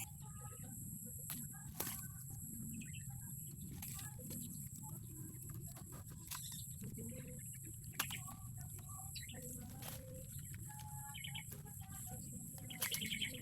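Birds being released, with repeated near chirps and tweets scattered throughout, a few wing flutters, over a low steady rumble and faint background noise.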